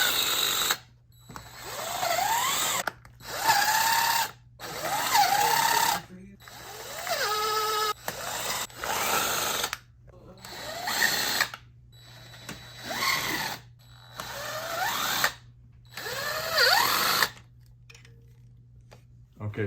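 A ratchet wrench tightens the intake manifold bolts on a Mazdaspeed, close up and loud, in repeated rapid clicking bursts separated by brief pauses, with a steady low hum underneath.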